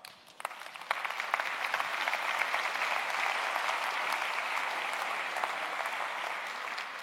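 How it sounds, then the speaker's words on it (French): Audience at a conference applauding, a dense, steady wash of clapping that starts with a few sharp claps, swells within a second and holds evenly to the end. "C'est toujours gênant ces moments d'applaudissement"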